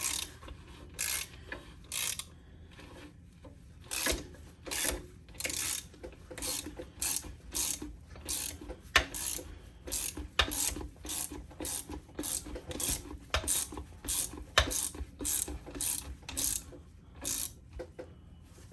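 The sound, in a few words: socket ratchet tightening MacPherson coil spring compressor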